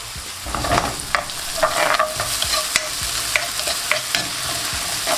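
Red onions, spring onions, chipotle paste and adobo sauce stir-fry in a pan, with a steady sizzle broken by sharp scraping clicks of a utensil stirring.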